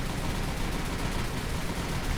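Naval gunfire and explosions in the War on the Sea combat game form a dense, sustained rumbling barrage at moderate volume, with no distinct single shots standing out.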